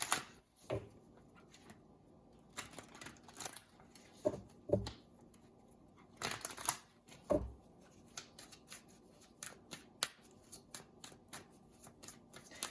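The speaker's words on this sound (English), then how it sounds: "we're going to pull some cards from the Isis deck" Isis tarot cards shuffled and drawn from a deck, a run of crisp riffling bursts and soft slides separated by short pauses, close and quiet with no talking.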